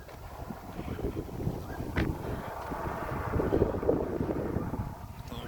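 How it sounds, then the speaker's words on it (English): Vehicle passing along a rural street in Restore, Manchester Parish, Jamaica, a steady broadband rumble that swells slightly toward the middle and end, heard outdoors with wind buffeting the microphone. "Vehicles coming. So you gotta step to the side of the street."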